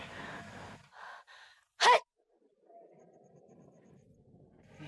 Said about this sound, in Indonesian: Jadi juga tuh bersin.